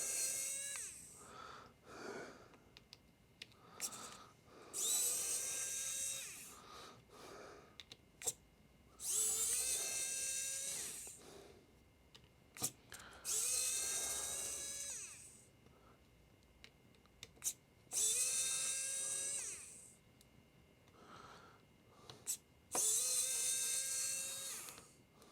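Screws being removed from a Samsung S22 phone during a screen repair with a small electric screwdriver, repeated high whirring bursts of a few seconds each separated by pauses and small clicks, close and fairly quiet.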